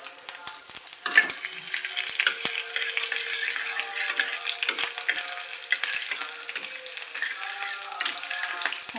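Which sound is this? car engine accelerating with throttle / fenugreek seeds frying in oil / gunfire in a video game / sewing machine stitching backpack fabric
fenugreek seeds frying in oil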